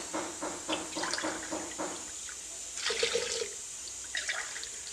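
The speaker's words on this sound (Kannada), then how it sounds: "ಅದೇ ಗ್ಲಾಸಲ್ಲಿ ಮೂರು ಗ್ಲಾಸು ನೀರನ್ನು ಹಾಕ್ಕೊಳ್ತೀನಿ" Three glasses of water poured into a cooking pot for lentil sambar, heard as a few short bursts of splashing water, fairly quiet against a faint background hum.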